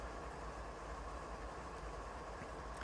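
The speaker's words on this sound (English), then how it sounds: "driving the diesel Legends BR101 in blue on Train Sim World 2" Diesel BR101 locomotive in Train Sim World 2, shown as a steady low idling rumble with a constant mechanical hum and no distinct events, faint and alone.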